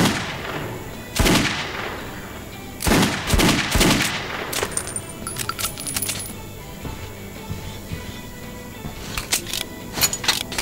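Weapon firing on an underground firing range in Metro 2033 Redux: separate loud sharp shots and short bursts spaced over several seconds, with metallic clinks and rattles in between.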